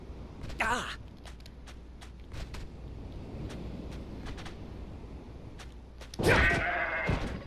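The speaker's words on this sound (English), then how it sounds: "There's that other dang goat. Dang dirty goat." A goat in the video game Zanki Zero bleats in two loud, wavering calls, one near the start and a longer one near the end, with faint tapping footsteps and quieter game ambience between them.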